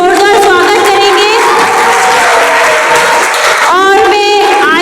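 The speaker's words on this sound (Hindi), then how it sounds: "उनका तालियों से सभी बच्चे जोरदार स्वागत करेंगे" Loud, sustained applause from a crowd of schoolchildren welcoming a guest at an event about ending child labour. The clapping is dense and continuous throughout, with brief bursts of children's voices and cheering rising near the start and again toward the end.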